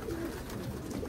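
Racing pigeons coo inside a loft, soft low throaty calls overlapping close by in a brief continuous stretch.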